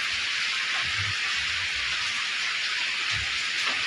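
Steady rain falls in an outdoor setting, a constant hissing patter without pause, fairly loud and close, with a few faint low bumps underneath.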